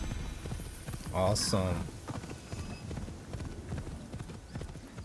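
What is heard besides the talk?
horse hooves clip-clopping, video game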